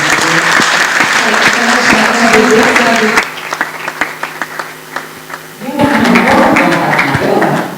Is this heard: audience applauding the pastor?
yes